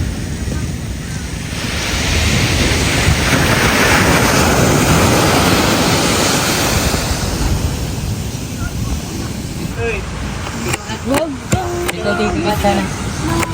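Ocean waves at the sea roll in as a broad, continuous wash of surf with wind buffeting the microphone, swelling loudest midway, then easing as faint clicks and light sounds appear near the end.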